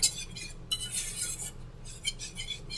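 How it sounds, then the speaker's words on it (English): Egg yolk being stirred into peanut butter pie filling in a pot, light clinks and scrapes of a utensil against the pan repeating irregularly, fairly quiet and close, with no voices. "Just keep stirring until it's thickened"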